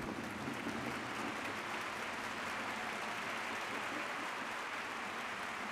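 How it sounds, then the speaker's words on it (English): A grandstand crowd at Ventura Raceway claps for the winner of a senior sprint car race, a soft, distant, even patter of hands that holds steady the whole time. "Nice round of applause for your winner in the 25,"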